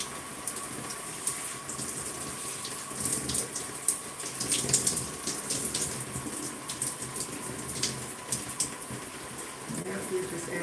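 Tap water runs steadily into a sink or basin while hair is being wetted during a wash-and-go curly hair reset, a continuous close splashing flow with faint background noise.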